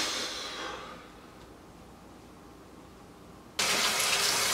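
Water runs from a tap while a neti pot is in use: a soft rushing stream fades to a quiet trickle, then a loud, steady gush starts abruptly near the end. No one speaks.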